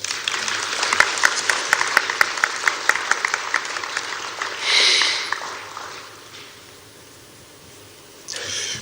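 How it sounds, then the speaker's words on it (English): An audience applauds at the signing of a national peace accord. The clapping is close, with distinct individual claps, and fades after about four seconds. A breathy sniff or rustle follows, then quiet room tone and a final brief noise. "Another round of applause"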